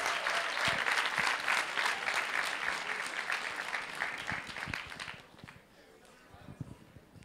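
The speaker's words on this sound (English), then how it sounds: "Please give a big applause for Dean Massini" An audience at an MBA talent show applauds a dean coming on stage, dense clapping mixed with crowd noise that fades after about five seconds into scattered claps and a voice.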